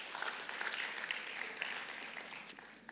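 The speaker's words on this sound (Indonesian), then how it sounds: "tepuk tangan buat Tuhan Yesus" A church congregation applauds during a sermon, a continuous patter of many hands clapping, faint and somewhat distant throughout.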